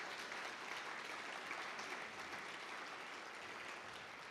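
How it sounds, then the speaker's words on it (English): An audience gives a sustained round of applause at an event, dense steady clapping filling the room at an even level from start to finish. "Christina Bascom, so please give them a round of applause."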